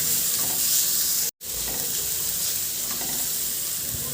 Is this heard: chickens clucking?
no